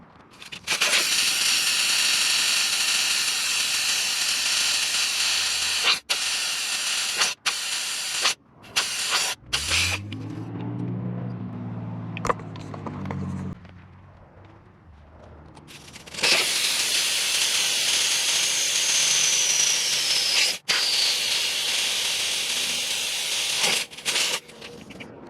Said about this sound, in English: All right, 4 tires deflated